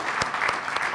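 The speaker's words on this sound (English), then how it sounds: "I really want you to give a quick round of applause to all the folks who are in this room." An audience at a kick-off event applauds the organizers, a loud, dense burst of many clapping hands with a few sharper claps standing out over one second.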